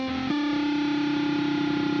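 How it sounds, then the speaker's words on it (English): Distorted electric guitar playing a lead note, with a sustained buzzy tone and unwanted harmonics ringing over it after a quick pitch change, brief and close. "I end up getting this horrible harmonic sound during my lead"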